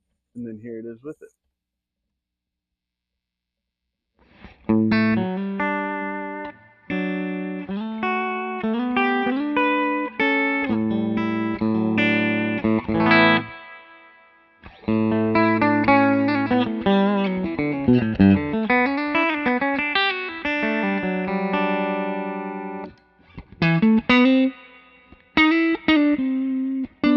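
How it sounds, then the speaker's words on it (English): A clean electric guitar plays strummed chords and picked notes through a tube-driven amp with its built-in spring reverb switched on, loud and close, the reverb tail ringing after each phrase, with brief pauses between passages. "it also has a built-in reverb, spring reverb, tube driven"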